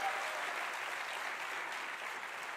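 University convocation audience giving a sustained round of applause, an even, continuous wash of many hands clapping at a distance, fairly faint and unbroken throughout.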